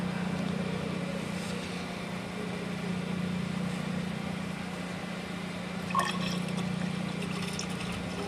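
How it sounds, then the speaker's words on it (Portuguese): Water pours steadily into a beaker being filled to a measured 800 ml, a continuous close stream over a low steady hum, with no talking. "Nós enchemos ele de água até um valor conhecido de 800 ml."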